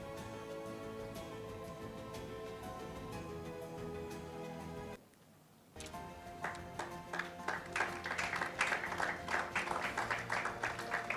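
An audience at an on-stage ceremony applauds colleagues. After a brief silent gap, scattered claps build into fuller, louder applause over steady background music.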